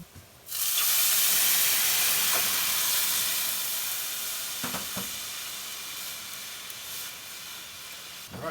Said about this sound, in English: we are going to saute this butternut squash